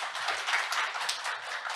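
Audience applause at a fintech conference in a hall, a dense, even patter of many hands clapping steadily at moderate volume, without speech.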